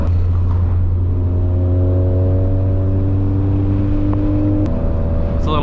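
A Ford Fiesta ST with adjustable suspension driving a curvy road, its engine droning steadily from inside the cabin, dropping pitch briefly near the end as it shifts.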